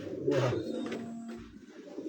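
Pigeons coo softly while a keeper holds them in hand on a rooftop loft: low, steady murmuring tones close by, with light rustling and handling noise and no talk.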